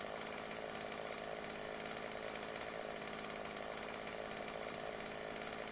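Chainsaw in the 7 Days to Die video game cutting into a bear, a continuous buzzing engine whine held steady and loud for several seconds with no talking.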